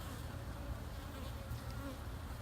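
Honey bees buzzing steadily around beehive frames being spaced out during hive expansion, a dense, continuous drone heard close and unbroken throughout.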